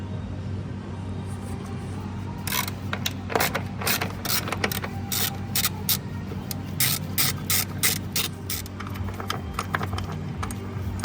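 A socket ratchet clicks in quick bursts while loosening an 8mm bolt on a Ford Mondeo battery clamp, close rapid pawl ticking over a low steady hum, with no talking.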